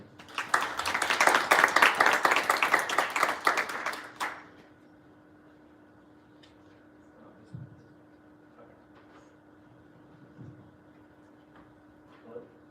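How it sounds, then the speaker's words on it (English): A conference audience at the 2019 Miami University Blockchain Club event gives a round of applause for speaker Chris Berry: dense, lively clapping for about four seconds that cuts off abruptly, leaving a quiet room with faint hum and a few small knocks. "can you have a round of applause for Chris Berry?"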